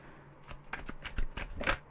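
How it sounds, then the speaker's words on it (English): A deck of tarot cards is shuffled by hand, a quick series of crisp riffling flutters and soft taps, close and clear with no talk. "Right, so we can do 3 shuffles."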